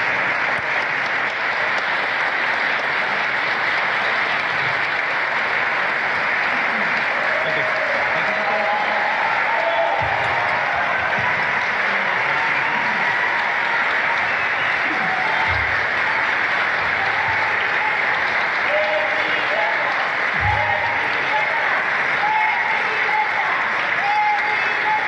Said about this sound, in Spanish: circular videos en las redes sociales donde supuestamente Xochitl Gálvez se llevó todos los aplausos.